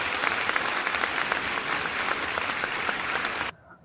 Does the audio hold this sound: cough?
no